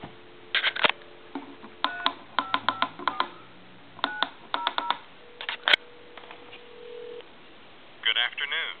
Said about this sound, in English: I'm going to go ahead and dial a time and temp number.